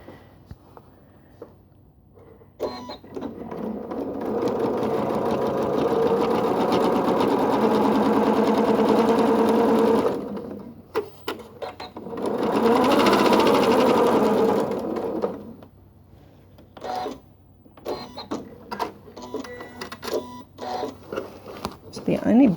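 A domestic sewing machine stitches a quilted tote bag in two steady whirring bursts separated by a pause, followed by scattered clicks and handling noises, with a voice speaking at times around the machine.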